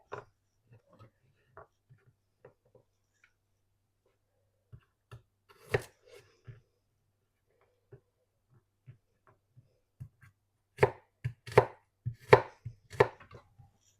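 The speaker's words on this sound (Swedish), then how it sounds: "vitlöksklyftor som vi hackar" Garlic cloves chopped with a knife on a board, sparse single taps at first, then a quick burst of rhythmic close chops near the end, with near silence between strikes.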